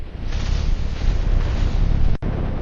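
Rockets launch from Lebanon in a wartime barrage, a loud sustained roaring rumble with deep booming low end that cuts off abruptly near the end before resuming.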